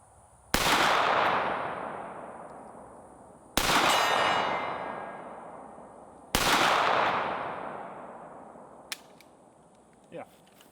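Three loud, separate shots from a USP Expert pistol fired in single action at a range, each with a sharp crack and a long ringing decay. Faint small clicks follow afterward.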